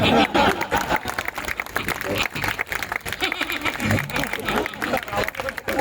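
Applause from a Hindi poetry-recitation audience at a kavi sammelan in Faridabad, dense and loud across the whole stretch, mixed with crowd noise and some speech.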